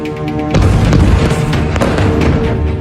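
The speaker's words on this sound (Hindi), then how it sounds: "एक बार फिर धमाका देखिए" An Israeli air strike bomb explodes at night in north-western Gaza with a loud, close boom. Crackling and rumbling debris follow, with further sharp bursts that keep the noise thick and sustained.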